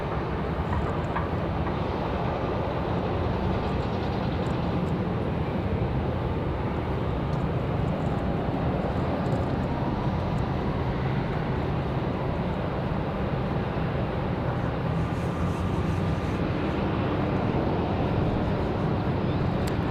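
An American Airlines Boeing 737-800 takes off from runway 23 right, a steady, loud, broadband jet roar sustained throughout with no voices.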